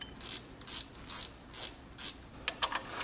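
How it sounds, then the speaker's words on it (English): A brake line flaring tool clicks through a ratcheting motion while working a brake line, sending out short repeated bursts of metallic clicking at a steady pace, close by with no talk. "Grab our brake flare tool."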